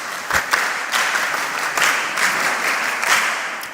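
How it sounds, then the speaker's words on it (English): An audience at a mentorship session applauds, dense clapping from many hands close by, continuous with slight swells, no speech over it. "give yourself a round of applause again."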